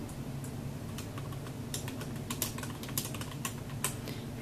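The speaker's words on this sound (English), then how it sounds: "type in my text" Close computer keyboard typing, a quick irregular run of key taps that grows busier toward the end, with a constant background hiss and no speech.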